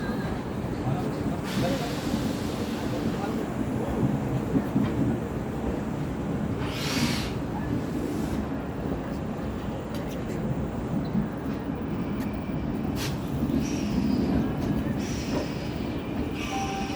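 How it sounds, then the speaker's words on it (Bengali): The Amrit Bharat Express inaugural special pulls slowly out of Santragachi station, a steady low rumble of rolling railcars with faint wheel squeals and a few brief clanks, all at a moderate distance. "দেখুন ট্রেন বেরোচ্ছে আস্তে আস্তে।"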